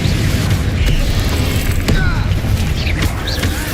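A Confringo spell blast in Hogwarts Legacy, loud booming impacts with mechanical, creaking textures over a dense rumbling battle bed, several sharp hits spread across the clip.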